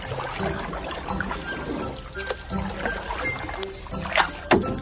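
A boat comes in across water, with trickling and light splashing from the hull or paddles, small knocks near the end, and a steady watery background with no talk.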